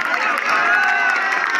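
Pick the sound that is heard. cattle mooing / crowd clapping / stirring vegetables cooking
crowd clapping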